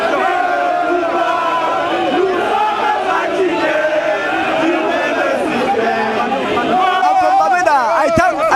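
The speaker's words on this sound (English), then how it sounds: "The ex-detainees are accompanied by the praise-singing crowd of militants to Professor Maurice KAMTO's residence in Santa Barbara" A large crowd of militants praise-singing and chanting as freed ex-detainees are escorted to a residence in Santa Barbara, Yaoundé, Cameroon, with loud, dense overlapping voices, shouts and chatter throughout.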